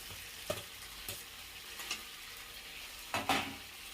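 Potatoes tossed into a hot pan fry with a steady low sizzle, broken by a few sharp scrapes and clinks of a spoon against the pan; no talking.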